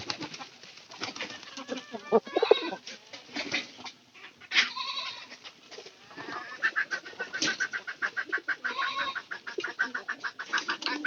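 Farmyard fowl, chickens among pigeons, call and cluck while being fed by hand, a busy overlapping chorus of near bird and animal sounds with a rhythmic burst of calls toward the end.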